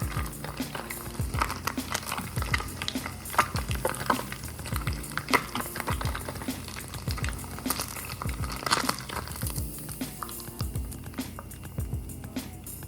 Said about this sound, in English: Just grab a chunk, stick it in, and it actually cooks so fast that I just do this with the stove on